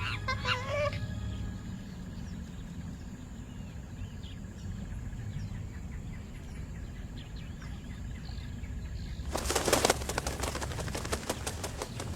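Water birds call across the Okavango Delta, a scatter of clucking and chattering notes over a low rumbling background, then a burst of rapid, loud, rattling calls near the end.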